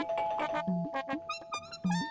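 A chiming doorbell plays a short electronic melody in several tones, fairly close, with a sustained hum running underneath.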